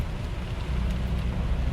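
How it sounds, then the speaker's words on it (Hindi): Heavy rain drumming on a moving Mahindra Thar during an early morning drive, a dense, steady roar with deep rumbling road and wind noise, loud and continuous. "बहुत तेज बारिश।"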